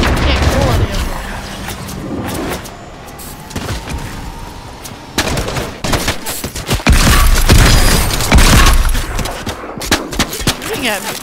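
Bursts of automatic gunfire and heavy booms in a Marvel shooter video game, some near and loud, some more distant, with a player talking over the shots.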